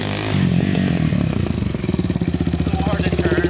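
A Honda ATC 350x three-wheeler engine runs nearby, its rough, throbbing idle rising into a revving, pulsing clatter as the machine pulls away.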